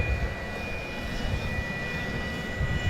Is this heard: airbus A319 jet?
yes